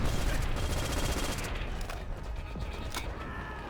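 Rapid bursts of automatic gunfire and metallic clatter from a Call of Duty match, loud and close, with overlapping shots and mechanical creaks over a few seconds.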